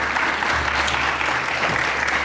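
An audience at a community campaign event in Mariental, Hardap Region, applauding a regional councillor; steady, even clapping fills the whole stretch at a constant level.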